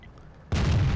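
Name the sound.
tank cannon shots in video game World of Tanks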